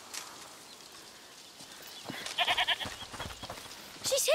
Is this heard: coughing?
no